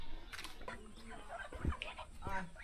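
Geese call noisily in front of a one-storey village house in a border village between India and Bangladesh, giving a few short honking cries over steady outdoor background noise.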